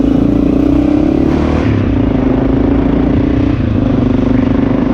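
A Honda XR650L motorcycle with a Lexx aftermarket exhaust runs loud and close, a steady, deep thumping engine note that eases slightly in pitch with a brief dip near the end.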